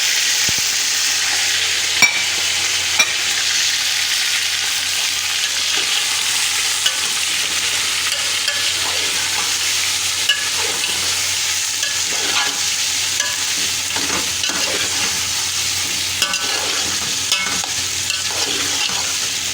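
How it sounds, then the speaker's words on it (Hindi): Beef with browned onions, garlic and ginger fries in mustard oil, a dense, steady sizzle with frequent scraping and clinking as it is stirred, close and unbroken for nearly twenty seconds. "अब हम गोश्त को अच्छी तरह भून लेंगे, इसकी बुनाई करेंगे"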